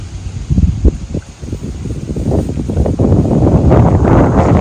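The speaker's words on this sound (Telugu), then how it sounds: "ఈరోజు అయితే చాలా గాలిగా ఉంది అసలు చాలా గాలి వస్తుంది" Strong wind on Mackinac Island buffets the microphone in loud, gusty rumbles that build and stay heavy toward the end.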